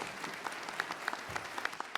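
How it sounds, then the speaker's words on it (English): A short round of applause from an audience at a research talk, a patter of individual claps at moderate distance, fairly quiet and brief. "Round of applause for the magic"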